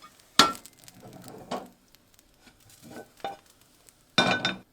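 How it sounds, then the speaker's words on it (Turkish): Börek flipped out of a frying pan onto a serving plate, heard as a sharp clatter and scrape, a few softer rustling knocks, then a loud burst of sizzle and clatter at the end. "Tavama uygun bir tane servis tabağı kapatıp böreğimi ters çeviriyorum"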